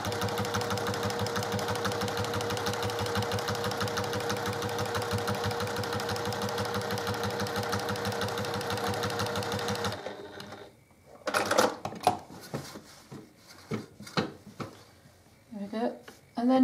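A sewing machine stitches a quilt block in a loud, steady run for about ten seconds, then stops, giving way to intermittent clicks and handling noises as the wheel is turned and the fabric pivoted.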